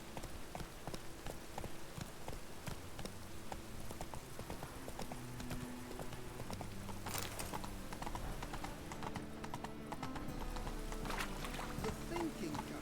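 Rhythmic horse hooves clip-clop steadily in The Witcher 3: Wild Hunt, a close, even trot beneath faint ambient tones, with a voice speaking briefly over it.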